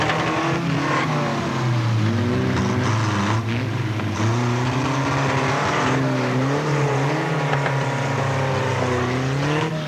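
Stock cars at Alwalton Raceway in 1983 roar continuously, engines rising and falling in pitch as they rev and pass, loud and sustained with several motors overlapping.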